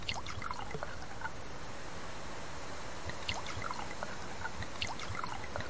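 Water pours steadily onto plants in the survival video game Subsistence, a continuous soft trickling stream that runs throughout at low volume with no speech.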